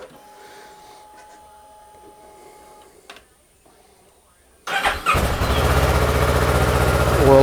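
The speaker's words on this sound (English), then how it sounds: "we're going to go ahead and start the bike" A 2015 Kawasaki Ninja 650 motorcycle sits quiet through faint clicks, then its engine fires up abruptly and settles into a loud, steady idle rumble close by.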